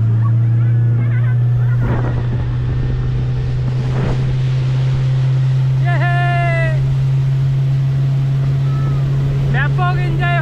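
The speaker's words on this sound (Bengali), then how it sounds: "উঠে পড়েছি এখন বোটে, এখন আমরা স্পিড বোট রাইড করছি।" Speedboat ride on a lake near Ranchi, a strong steady low engine drone running throughout with wind buffeting the microphone, while people talk and call out over the motor.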